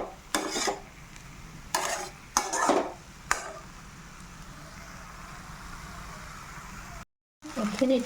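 Steady sizzle of food frying in a pan, broken by several short bursts of scraping as a utensil stirs it, then a brief silent gap and more stirring.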